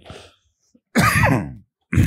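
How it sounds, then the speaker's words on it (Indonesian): A man coughs several times in a row, loud and close, with harsh throat-clearing bursts separated by short silences. "Mohon maaf memang saya agak batuk jadi bisa dimaklumi"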